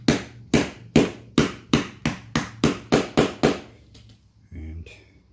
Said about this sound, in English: I'm going to support it by this dowel, get a few light taps,